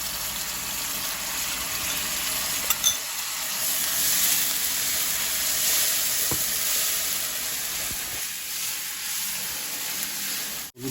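Garlic paste frying in a pan for mixed vegetable khichuri gives a steady, close sizzle that runs throughout, with a few brief clinks of stirring and no voices.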